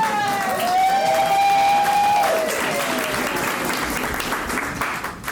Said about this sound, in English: I just want you to clap for me forever because I need it.